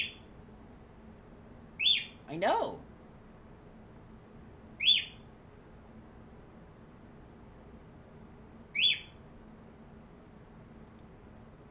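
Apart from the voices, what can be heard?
bird calls in the video game Dark Seed II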